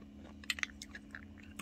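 Chewing a crunchy chocolate topping mixed into plain yogurt, with small irregular crisp crunches close to the mouth over a steady low hum and no talking.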